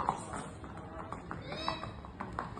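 A mare's hooves clip-clop in a steady, moderately paced rhythm during a ride, with faint voices and background noise underneath.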